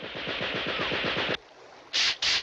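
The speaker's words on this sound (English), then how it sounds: "I'll man the Gatling gun. But, Colonel... Look, they're crossing up ahead. Fire!" A cartoon Gatling gun fires a rapid, loud burst of rhythmic shots, then stops, followed by two brief bursts of harsh hissing noise.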